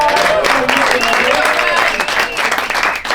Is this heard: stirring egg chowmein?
no